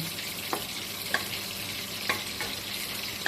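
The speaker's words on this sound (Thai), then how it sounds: "เราเอาหัวเชโปลง แล้วค่อยเอาไข่ ตีลงนะคะ" Preserved radish and egg stir-frying with garlic in a pan, a steady dense sizzle with a few light spatula taps spaced through it, close and moderate in level, no voices.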